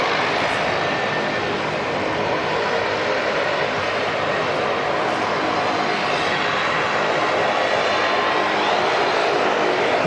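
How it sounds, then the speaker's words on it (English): A Qantas airliner taxis back to the gate at Auckland Airport, its steady broadband engine roar constant and fairly loud throughout, with no clear speech. "Qantas coming back to the gate."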